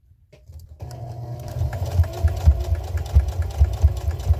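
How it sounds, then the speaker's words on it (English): A sewing machine stitches straight across a washable, reusable kitchen sponge, starting after a brief quiet moment and settling into a steady mechanical hum with regular thumping pulses, close and fairly loud, with no talking. "I'm just sewing straight across my sponge"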